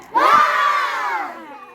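A class of students shouts together in one loud, sustained group cry at the end of a breath-hold during a volleyball warm-up breathing exercise.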